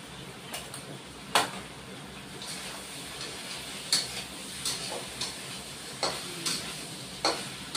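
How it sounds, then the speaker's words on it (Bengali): Okra with turmeric sautéing in a pan with tomato and oil, a low steady sizzle punctuated by several sharp spatula taps and scrapes at irregular intervals, close, no talking. "এবার আরেকটু কষিয়ে নিব"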